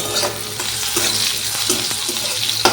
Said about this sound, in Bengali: করলাগুলো ভালো করে ভাজতে হবে নাহলে পরে তেঁতো লাগে তরকারিটা